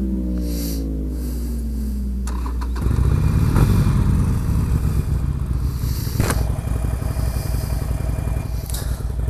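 2016 Harley motorcycle at a bike night, its engine rising into a loud, close, rumbling roar with rapid firing pulses and clatter as it rides through.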